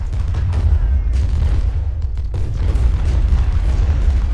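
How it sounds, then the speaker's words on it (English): Cannon fire in the Ultimate General: Civil War video game: a loud, continuous battle din of rumbling artillery booms that overlap into a steady roar for the whole stretch. "These cannons, though, are just putting the hurt on us."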